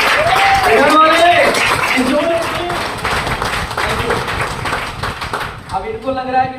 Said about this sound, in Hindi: पहले एक जोरदार तालियां बजा करके